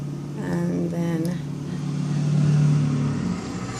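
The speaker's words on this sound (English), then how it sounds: "a nice loud truck drove by." A loud truck drives by outside, a steady low engine rumble swelling and fading over a few seconds beneath a voice talking close by.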